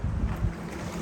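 Steady wind gusts buffet the microphone at a lakeside campground on Suttle Lake, a low continuous rumble with a couple of stronger surges early on, no voices.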